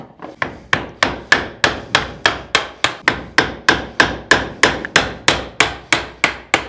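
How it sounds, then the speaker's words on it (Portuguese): A hammer strikes a wood chisel to pare excess hardwood in a woodworking lesson, about twenty sharp, even knocks in a steady rhythm, loud and close, each with a brief woody ring. "Agora eu vou batendo e vou removendo esse excesso que está em cima."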